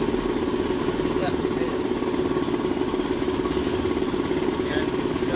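A Vespa 1/4 hp air compressor motor runs steadily, a loud, even mechanical drone with a fine rapid rattle, constant from start to end while someone talks over it.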